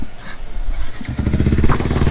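Yamaha Y15ZR V2 motorcycle starting on the first try, a short crank followed by the engine catching into a close, loud, rapid idle putter.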